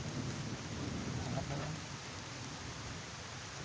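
Steady broadband rain hiss with a low rumble underneath, constant and fairly loud throughout, with faint voices mixed in.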